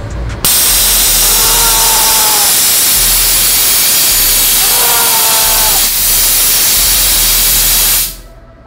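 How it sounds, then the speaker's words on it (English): A steam jewelry cleaner blasts a loud, steady hiss close up for about eight seconds in a jewelry shop, then cuts off abruptly. "All right, go for the steam."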